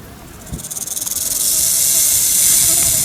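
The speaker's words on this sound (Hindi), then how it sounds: "ये सांप की आवाज़ है।" A wild snake hissing in Rajasthan scrubland: a sharp, sustained hiss that begins in quick pulsing bursts, then settles into a loud, steady, close hiss.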